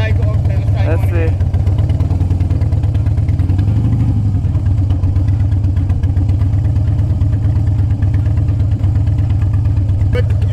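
A motorcycle engine runs low and steady at close range during slow-speed riding practice with light rear braking, a continuous rumbling idle-like drone with faint clatter throughout.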